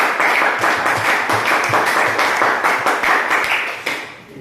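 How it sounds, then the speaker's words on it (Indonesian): Classroom applause for a student group, many hands clapping steadily and fairly close in a dense, continuous patter that holds for several seconds before tapering off at the end. "kita berikan aplaus untuk kelompok kita"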